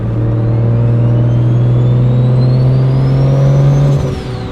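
A BMW 1M clone with an N54 engine and single turbo kit revs steadily under partial throttle, its loud, close exhaust drone joined by a rising turbo whine before the revs drop off near the end.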